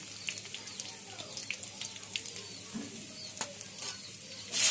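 Chopped garlic frying in a pan for chow mein, with a steady close hiss of sizzling and faint scraping from stirring, plus a louder burst at the very end.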